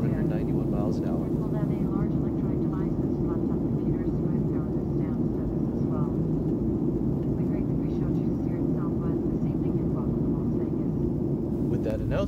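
Steady, loud broadband drone of a Southwest Airlines jet cabin cruising at altitude en route to Las Vegas, continuous throughout with faint voices murmuring underneath.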